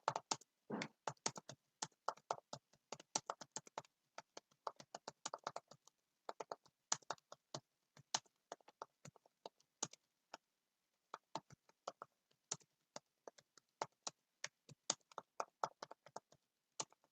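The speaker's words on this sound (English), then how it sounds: "I'll just quickly finish typing" Someone types on a computer keyboard: quiet, irregular clicks and taps in quick bursts, with a brief pause partway through, close and alone with no talk.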